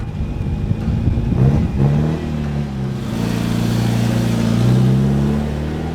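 A Peugeot RCZ race car with a 2-litre HDi diesel engine tuned to 200 hp revs and accelerates close by on a circuit, pitch rising and falling through gear changes, a loud steady drone with no voices.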